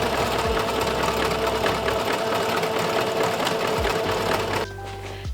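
A sewing machine runs a zigzag stitch along the edges of stretch fabric, whirring loudly and continuously at a close distance before it slows and stops near the end.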